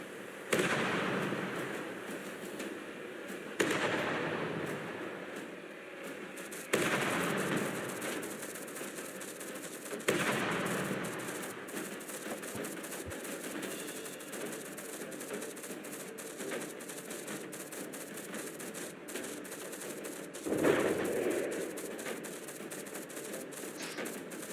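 Gunfire in a video game naval battle: a handful of moderately faint, regularly spaced booming volleys, each with a sharp onset and lingering crackling tail, over a steady low background rumble.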